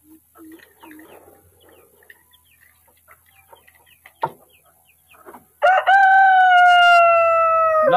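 Hens cluck softly and scattered, then a rooster lets out a loud, close, drawn-out crow that continues to the end.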